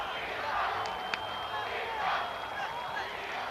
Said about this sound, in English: you can hear the crowd in the Los Angeles Coliseum chanting Dida, Dida.